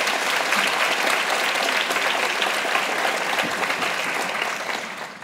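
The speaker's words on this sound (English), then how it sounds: "Big round of applause to all of you first." An audience of students and makers gives a dense, sustained round of applause at a closing ceremony. The roar of many clapping hands stays loud and even before tapering slightly at the end.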